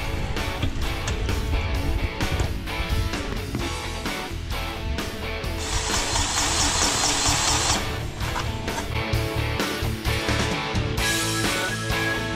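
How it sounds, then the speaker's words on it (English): A DeWalt 20-volt Max lithium-ion cordless grease gun runs steadily and loudly, its motor whirring throughout while greasing a sub-compact tractor, with a brighter, harsher stretch partway through. "The Dewalt cordless 20-volt Max lithium-ion grease gun."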